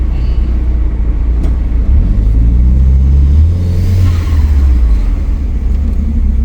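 Engine of a second-generation Mitsubishi Eclipse project car pulling away, a loud, close low rumble that climbs in pitch as it accelerates, drops, then rises again before settling, with no talk over it.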